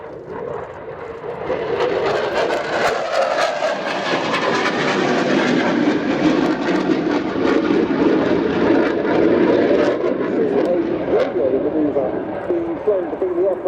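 A Finnish F/A-18C Hornet jet roars through an inverted display pass at RIAT 2025, a loud broadband engine rumble swelling and holding steady across the clip, with an announcer's voice talking over it.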